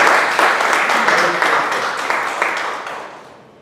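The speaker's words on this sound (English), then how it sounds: "I think it deserves a big round of applause for her." A round of applause from the audience at a Toastmasters club meeting, steady clapping that fades out toward the end.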